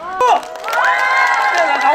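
Crowd at a neighborhood residents' festival cheering and shouting loudly for a singer taking the stage, with children's shrieks and whoops rising in a dense, sustained roar.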